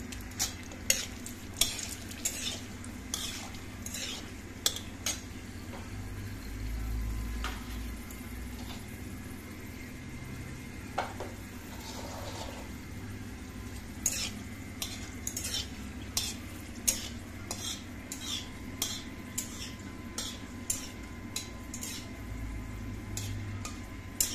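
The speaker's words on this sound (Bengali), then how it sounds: "কালো জিরেটা শুকনো লঙ্কাটা খুব সুন্দর ভাজা হয়ে গেছে" Black cumin seeds and dried red chillies fry in a pan for an aubergine bharta, a steady low sizzle under frequent sharp clicks and scrapes of a spoon stirring against the pan, close and continuous.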